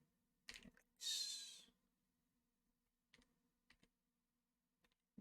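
A few sparse keyboard clicks and a short burst of quick keystrokes, with quiet gaps between them in an otherwise silent room.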